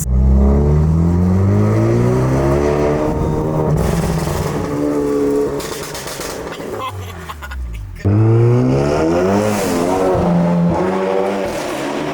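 A straight-piped Hyundai Elantra N with an Xforce downpipe revving hard, its loud, raspy exhaust rising and falling through several surges, with a brief lull before it roars up again.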